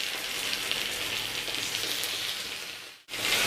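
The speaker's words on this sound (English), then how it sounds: "I am drizzling in little bit more water" Water drizzled onto a hot pan while cooking Kerala-style ela ada hisses in a steady, loud sizzle with steam, running continuously before cutting off abruptly near the end and then resuming.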